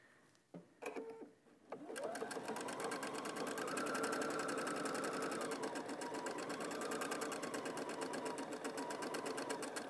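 Sewing machine stitching the lining seam of a Christmas stocking: a few short starts and stops, then a steady, fast rhythmic whir of the needle running continuously at moderate volume, with no talking.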